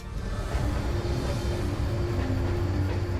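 A freight train rolls down a steep 2.2% grade, a dense, steady rumble of wheels on rails with low drones and squeals, continuous and fairly loud, no voices.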